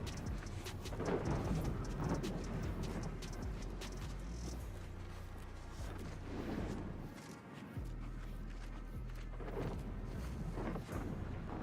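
A steady thunderstorm rumbles in the game The Outer Worlds 2, with continuous rain and low rolling thunder filling the background and no talking.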